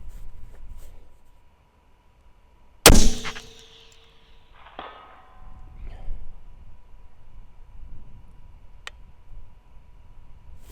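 A single sharp, loud rifle shot from a custom 300WSM rifle cracks out near the start, followed by a faint metallic ring and a few clinks against a quiet outdoor background.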